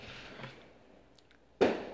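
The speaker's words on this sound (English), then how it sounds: "Oh, apparently neighbors are lighting off fireworks." Neighbors' fireworks go off outdoors: a faint pop, then one sharp, fairly loud bang near the end with a short trailing echo, over a quiet background.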